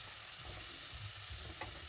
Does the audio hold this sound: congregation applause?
no